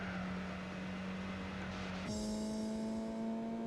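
A car fitted with a sports exhaust in the racing game Gran Turismo 4 drones at a steady engine pitch, then shifts abruptly to a new, higher tone, loud and close, with no talk.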